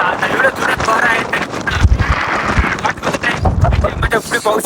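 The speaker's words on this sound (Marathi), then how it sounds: "आता एवढं जोरात वारा आहे" Strong wind gusts buffet the microphone near the summit of Kalsubai peak in Maharashtra at about 5400 ft, where a group waits for sunrise. A steady roar with deep thumping bursts runs throughout, and people talk over it.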